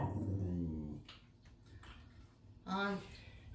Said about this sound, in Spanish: Es un perro impertinente.